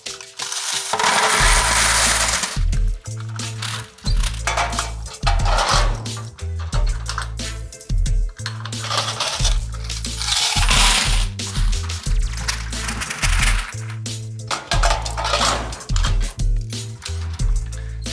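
Quarters collected from laundromat washers clatter and jingle in repeated bursts, coins spilling and rattling against metal with clunky mechanical knocks, loud and close with no talking.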